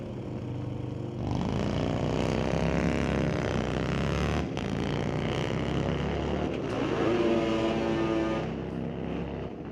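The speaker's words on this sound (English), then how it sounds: "And the Harleys riding away." Harley motorcycles, including a three-wheel bike, accelerate away down a drag strip at a racing event, a loud sustained engine roar with rising pitch that stays strong and close throughout.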